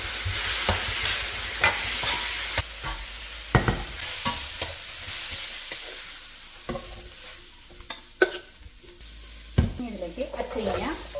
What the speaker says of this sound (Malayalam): പിന്നെ കുറച്ച് സോസുകളും കൂടെ ഒഴിച്ച് പോർക്ക് കുക്ക് ചെയ്ത് മാറ്റിയിട്ട് വെജിറ്റബിൾസ് സെപ്പറേറ്റ് കുക്ക് ചെയ്യും.